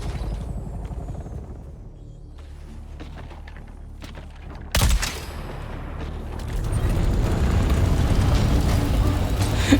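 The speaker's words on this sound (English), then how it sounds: "Oh my god, he's trying to shoot me." Gunfire and explosive booms in the survival game Dune: Awakening during player-versus-player combat, a sharp loud blast midway followed by a dense, rumbling wash of shooting and impacts.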